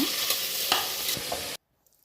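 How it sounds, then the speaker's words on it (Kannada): Vegetables for pulao, including tomato, cauliflower and cabbage, fry in a pan. A close, steady sizzle with a few stirring scrapes lasts about a second and a half, then cuts off into silence. "ಹಾಕ್ಕೊಂಡು ಚೆನ್ನಾಗಿ ಹುರ್ಕೊಳ್ಬೇಕು"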